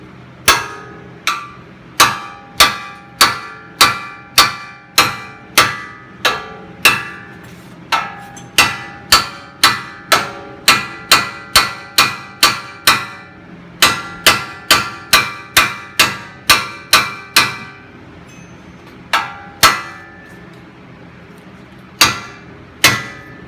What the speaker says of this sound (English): you wanna be careful what you're hammering around